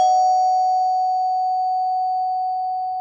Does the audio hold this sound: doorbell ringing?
yes